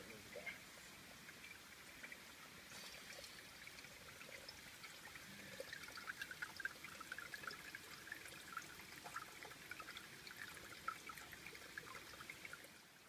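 Spring water trickles and pours outdoors at a natural spring in a Japanese forest. The flow is quiet and steady, a soft continuous babble with faint splashy drips, and it carries on alone without a break.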